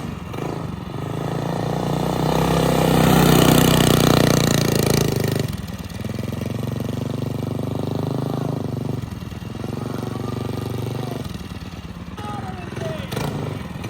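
A mini quad's small engine revs up and down while being ridden through a yard, rising to a louder buzzing peak then easing back, with people talking over it.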